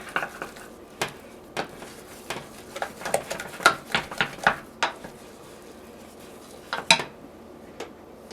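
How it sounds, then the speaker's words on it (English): Cream puff dough of flour, water and butter beaten hard in a pot for a 1971 Betty Crocker Danish puff, giving irregular clacks and scrapes of a utensil knocking against the pot, with bursts of quicker strokes and pauses between. "You need to stir this vigorously."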